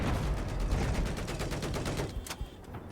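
Rapid bursts of automatic gunfire from an F2000 rifle in the shooter game Battlefield 4, on the Flood Zone map, rattling steadily and loud for most of the stretch before thinning into a few scattered shots.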